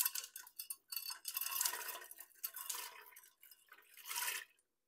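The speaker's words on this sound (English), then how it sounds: "we're just going to add our beans" Dry beans are poured into a soup pot, a close rattling patter of many small hard pieces hitting metal in several uneven bursts that stop abruptly near the end.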